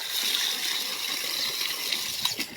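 Fresh, cold bathing water flows and gushes steadily nearby, a continuous hissing splash with small irregular spatters and no talk.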